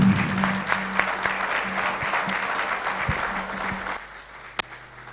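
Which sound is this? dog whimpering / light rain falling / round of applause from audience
round of applause from audience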